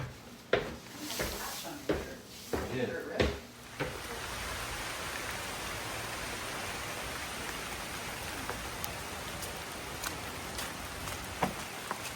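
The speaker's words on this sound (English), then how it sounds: "It is raining, as you can see." Steady rain falling on the Appalachian Trail heading toward Harpers Ferry, a constant soft hiss with a few knocks and rustles at the start, no talk.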